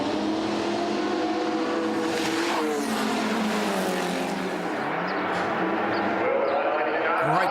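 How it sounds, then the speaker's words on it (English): A field of BMW E30 race cars roars down a circuit's front straight in a continuous, fairly distant engine drone with shifting pitches as cars pass, under a commentator's voice. "Great close racing. They fan out across the front straight."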